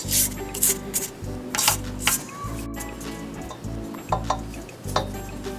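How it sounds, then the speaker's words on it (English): A spatula scrapes cake batter off the sides of a mixing bowl while pumpkin spice cinnamon roll dough is being made, giving soft, quiet rubbing and scraping strokes with light clinks, repeated several times. "I'm just scraping off the sides a little bit"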